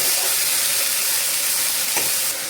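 Flat bean curry seasoned with salt and turmeric is stirred in a pan, giving a steady close sizzle with soft scraping and one brief clack near the end.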